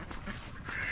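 Ducks quack in a backyard garden setting, a short burst of nasal calls rising toward the end over low background noise.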